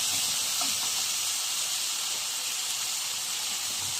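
Onion and tomato sizzle in a hot pan with broccoli for a Peruvian stir-fry, giving a steady, loud, close hiss of frying that holds without a break, and no voices are heard.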